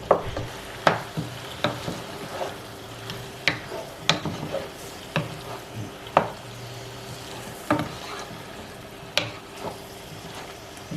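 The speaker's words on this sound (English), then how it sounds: "I still have my burner on about medium so that it's kind of just simmering" Okra soup simmering in a pot on a stovetop burner set to medium, a soft bubbling hiss with irregular small pops and ticks spread through the clip, close and moderate in level, with no talking.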